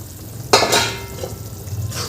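A few quick scraping stirs of fried potatoes in boiling gravy in a pan, with a soft sizzle and bubbling underneath, close by and moderately loud.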